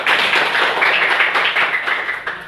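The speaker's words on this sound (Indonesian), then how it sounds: "Kasih tepuk tangan dulu." A classroom of students claps hands together in a short, dense burst of applause that fades slightly toward the end.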